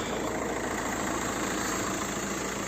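A 2010 VW Touran Freestyle with a 2.0 TDI diesel engine idles in a steady, even hum, close and unbroken for the few seconds, with no voices.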